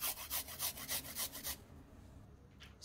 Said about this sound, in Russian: Измельчаем чеснок любым способом.